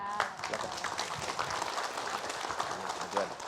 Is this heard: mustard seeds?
no